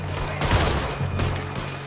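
Gunfire in Red Dead Redemption 2 on PS4 during a fight on an island: a short, loud, dense rattle of overlapping shots with a few sharper cracks, close and continuous.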